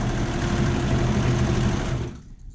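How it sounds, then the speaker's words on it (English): A serger sewing machine stitching fabric runs in a dense, steady mechanical whir, close and loud, then stops abruptly near the end. "I'm showing you how it is to sew directly with a serger"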